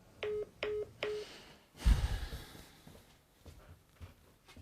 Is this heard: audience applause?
no